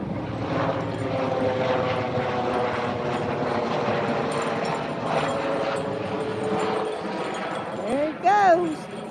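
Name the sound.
helicopter taking off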